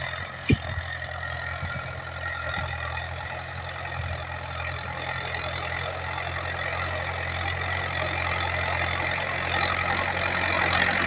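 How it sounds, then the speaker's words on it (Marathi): A tractor engine idles steadily outdoors in a field being ploughed, with a low, rumbling drone and a faint knocking rhythm, growing slightly louder toward the end. "आता आलेला आहे ट्रॅक्टर या साईडला तुम्हाला दिसत आहे"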